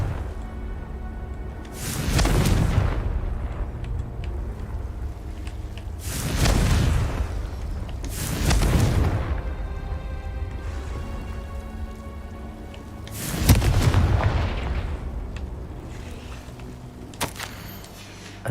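Deep booming blasts of the Confringo fire spell in Hogwarts Legacy, four separate explosions, each swelling and fading over a couple of seconds against a low rumbling background.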